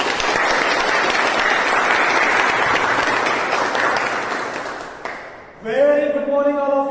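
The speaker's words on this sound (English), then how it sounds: "with your thunderous round of applause" A thunderous round of applause from a meeting audience welcoming the Toastmaster of the Day, a dense sustained roar of clapping that fades out, followed by a voice beginning to speak.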